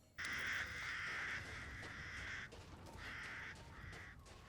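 Crows caw repeatedly in Resident Evil Village, a series of loud harsh calls in uneven bursts close by, with no talking.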